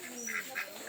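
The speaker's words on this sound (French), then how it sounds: "les canards." Ducks in Vohipeno, Madagascar, quacking while being fed rice, a few short nasal quacks close by over a soft background.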